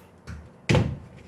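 A tempered-glass cabinet door in a furnished apartment opens: a faint knock first, then one louder, close wooden thud with a brief rattle, in an otherwise quiet room.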